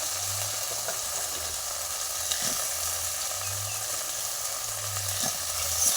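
Potatoes fry in a pan with a steady, dense sizzle that runs throughout, broken by a few faint stirring knocks, and a low hum rises and falls in the background.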